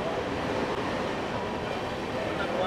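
On the Barddhaman–Howrah chord line, a Rajdhani Express runs past at speed, a steady, dense rumble of rolling carriages that holds throughout, fairly near with no clear voices.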